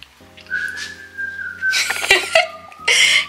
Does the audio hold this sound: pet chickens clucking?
no